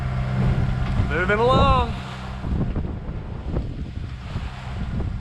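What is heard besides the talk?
sailboat motor sailing with wind and waves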